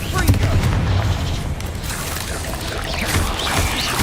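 Confringo fire spells burst in the Hogwarts Legacy video game as a dense, continuous wash of booming, rumbling blasts. A voice talks over the din.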